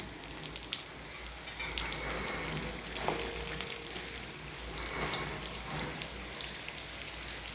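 Sliced onion tipped into hot oil for a Maharashtrian kanda khobare watan, crackling and popping in a fairly quiet, steady fry with scattered bright spits and a light scrape, no one speaking.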